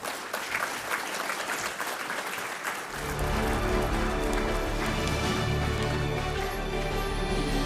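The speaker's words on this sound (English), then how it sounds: "A big round of applause." An audience at a chemicals and petrochemicals industry awards ceremony bursts into sustained applause that starts after a quieter opening stretch and keeps a steady, full clapping texture to the end.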